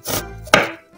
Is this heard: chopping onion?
yes